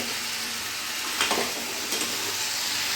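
Elephant foot yam sautéed in a pan for an onion- and garlic-free vegetarian dish, a continuous close sizzle with a couple of soft stirring scrapes and no talk.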